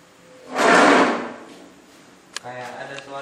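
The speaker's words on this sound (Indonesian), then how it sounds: "Ada suara kursi bergerak sendiri kayaknya." A chair apparently moving by itself during a night-time haunted-location challenge in Pekanbaru: one loud scraping rush that swells and fades, then a sharp knock followed by quieter sounds and a voice.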